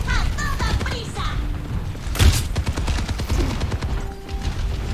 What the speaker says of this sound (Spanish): Widowmaker, tienes disparos cargados. Úsalos, cara.